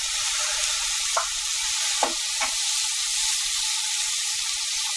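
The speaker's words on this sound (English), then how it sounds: "So we are frying it on medium?" Steady sizzling of momo filling frying in a pan on full heat, with a few soft clinks of stirring scattered across the otherwise continuous hiss.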